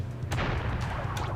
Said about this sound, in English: the seed is not the hazard, it's the explosion